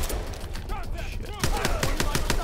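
Rapid gunfire in Call of Duty: Advanced Warfare, with sporadic shots giving way to a fast, loud burst of automatic fire, alongside game sound effects and a brief voice.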